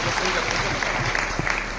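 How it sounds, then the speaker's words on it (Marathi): An audience applauds at an honour ceremony at a spiritual centre's jubilee, a dense wash of clapping heard close and fairly loud throughout, with voices mixed in. "मोठ्याने टाळ्या वाजवायच्या"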